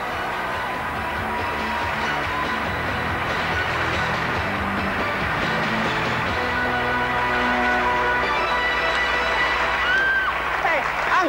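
An audience at a magic act applauds and cheers, a dense, steady wash of clapping with scattered whoops that holds throughout, with voices talking over it.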